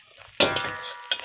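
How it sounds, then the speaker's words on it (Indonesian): Rice frying in a pan for Indonesian nasi goreng gila, with a sudden loud sizzle burst partway through, then a steady crackle and a second short flare near the end. "Untuk nasi goreng gila, nasinya kita goreng dulu dan sudah kita bumbui"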